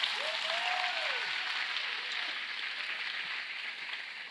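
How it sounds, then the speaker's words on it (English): An audience applauds a high school concert choir at a school ribbon-cutting ceremony, a steady broad wash of clapping that fades slightly toward the end, with a brief voice-like whistle early on. "Can you join me in giving them a round of applause?"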